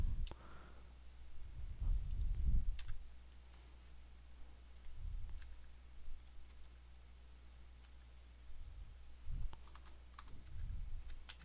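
Typing on a computer keyboard in an AutoCAD workshop, with soft scattered key taps in short clusters over a low steady room hum, close and quiet, without voices.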